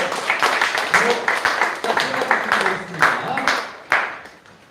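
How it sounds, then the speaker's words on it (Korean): Workers and onlookers at a construction-site safety day ceremony give applause, a dense crackle of many hands clapping steadily for several seconds with voices mixed in before it tapers off. "유튜브를 시청하시는 분하고 여기 있는 사람들은 우레와 같은 박수를 보내주시기 바랍니다"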